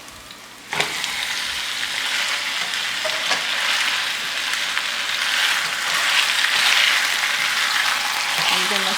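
Pork sizzling steadily in a hot pan while being stirred, a dense frying hiss that starts suddenly as the meat hits the pan, with occasional scraping and clinking from the stirring, close and loud.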